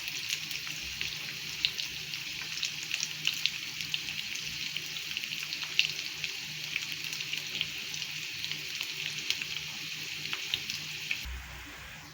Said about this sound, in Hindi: अब हमने इन्हें अच्छे तरीके से फ्राई करना है, ठीक है। शैलो फ्राई करना है हमने इसको।